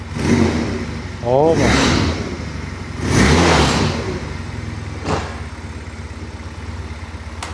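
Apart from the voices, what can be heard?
ATV engine starting and idling after repair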